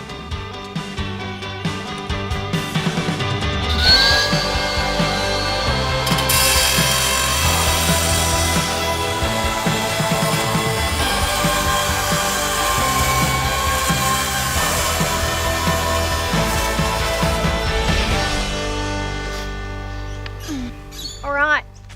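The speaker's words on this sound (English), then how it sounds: "STIHL battery cut-off machine is a great little tool" A loud, steady STIHL battery cut-off machine whines through a metal fence without a break, close by and dominating the scene until it cuts out at the end.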